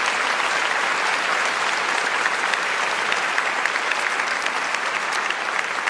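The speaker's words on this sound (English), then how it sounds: "A big round of applause for them." Audience at a formal public debate on a treaty and reconciliation applauds the panel, a broad, even roar of many hands clapping that holds steady and loud throughout.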